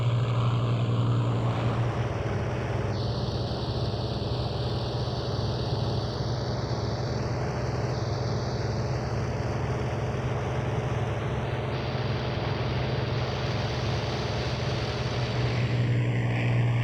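Heinkel He-177 bomber engines in the flight game IL-2 1946 drone steadily and loudly throughout, a dense propeller roar whose pitch shifts slightly as the throttle changes.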